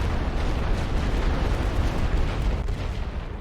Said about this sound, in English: I'm calling in heavy artillery on their front line